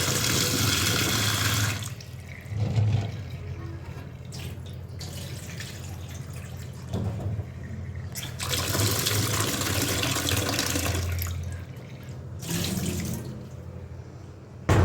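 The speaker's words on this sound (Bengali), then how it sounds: "ডিমগুলো তো ধুয়েই নিলাম" Eggs being washed under a running kitchen tap while preparing a home-cooked egg curry meal, water streaming steadily into a sink with splashing surges and brief pauses across the clip, fairly close and with no talking.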